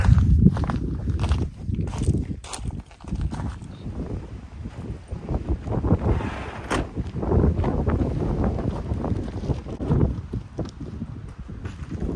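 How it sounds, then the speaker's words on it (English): Strong gusty wind buffeting the microphone, rising and falling in low rumbling bursts, with faint footsteps underneath. "it is super windy out here"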